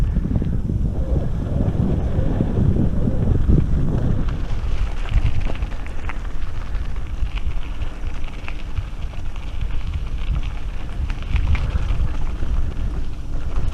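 Strong wind buffets the microphone on a park trail, a loud, continuous rushing roar heaviest in the first few seconds, with no talking.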